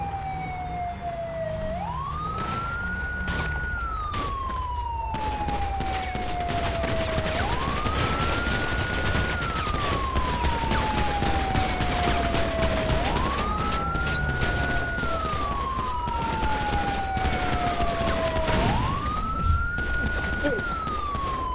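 Gunfire in a police roleplay video game crackles in scattered sharp bursts beneath a loud, rising and falling police siren that wails throughout, with the shots partly masked by the siren.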